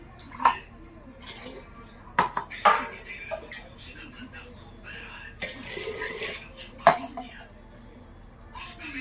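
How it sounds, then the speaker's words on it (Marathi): A soot-blackened cooking pot, used the day before for mutton on a wood-fired clay stove, is scrubbed by hand. It gives scraping rubs and sharp metallic clanks at irregular intervals, with some splashing water nearby. "काल चुलीवर मटण शिजलं होतं, तर कशी काळी झाली बघा. आता किती घासायची"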